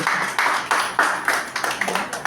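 An audience claps to welcome a speaker at a Tamil talk on music and drama: brisk, close applause in repeated bursts, each swelling and fading, with no voices over it.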